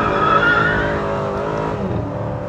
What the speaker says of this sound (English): this twin-power V8 really comes alive